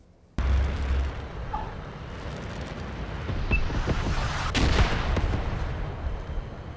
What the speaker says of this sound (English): I'll cut over to seeing how the missile hit me